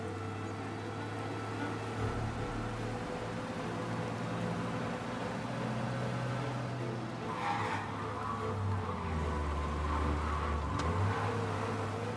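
Car engine during a police chase in the video game Mafia: Definitive Edition, a steady droning rumble held throughout with brief tyre-squeal-like rises near the end, no speech.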